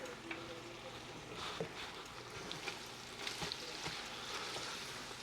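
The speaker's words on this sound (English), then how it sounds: "I am going to start adding my collard greens to it." Collard greens sizzle and crackle steadily as they are added a little at a time to a hot pot, a continuous low frying hiss with small pops throughout.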